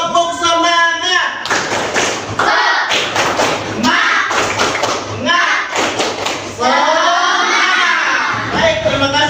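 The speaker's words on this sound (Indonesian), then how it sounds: "Sebelumnya kita tepuk semangat terlebih dahulu, tepuk semangat." Classroom children performing a rhythmic spirit clap, bursts of patterned group clapping and thumps alternating with loud chanted children's voices, close and energetic in repeated phrases.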